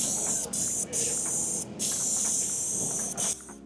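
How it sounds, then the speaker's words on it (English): Repeated bursts of close aerosol spray hissing as edible gold is sprayed onto chocolate, each lasting about a second, separated by brief pauses. "So you go from bottom to top and spray it beautifully like this."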